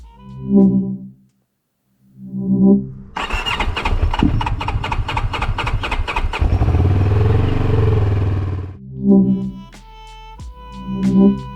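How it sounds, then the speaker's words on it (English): A CF Moto CL-X 700 Heritage motorcycle engine cold-starts with heavy rhythmic chugs, catches and sputters roughly for several seconds, stalls, then coughs through more labored cranking attempts. "For some reason, cold starts always tended to sound a bit like this."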